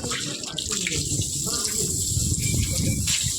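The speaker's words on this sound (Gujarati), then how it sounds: "પાણી ચાલુ કરી દીધું છે।" Water gushes steadily from a pipe or tap to cure fresh plaster on a wall. The rushing flow is close and constant, with some faint background voices.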